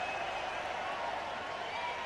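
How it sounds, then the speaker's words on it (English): A stadium crowd roars steadily at a cricket match between Australia and New Zealand in Faridabad, 2003, a dense, continuous wash of cheering and clapping heard at a distance. "Huge roar from the crowd."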